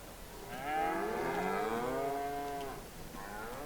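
Cows low in a pen on a Midwestern farm, one long, loud, wavering moo swelling and fading, followed by a softer second call near the end.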